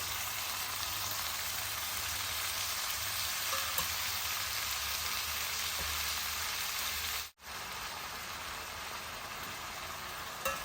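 Fresh tomatoes sizzle with fried onions, ginger-garlic and chili powder in a pan, a constant soft hiss under gentle stirring, fairly faint and unbroken apart from one brief dropout.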